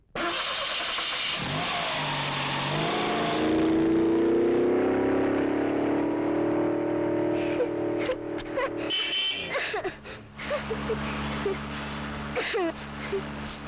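A car engine hums steadily and rises as if revving, with voices and clatter joining in toward the end.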